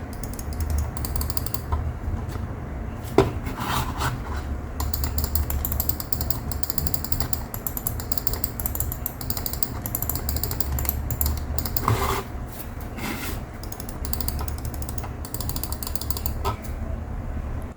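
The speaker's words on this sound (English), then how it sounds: "And here's how my mouse sounds before installing the mod." A computer mouse with its stock clicky switches, before a silent switch mod, heard through a steady room hiss with scattered small sharp clicks and mechanical ticks; no one speaks.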